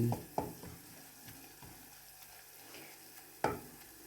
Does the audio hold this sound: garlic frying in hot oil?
yes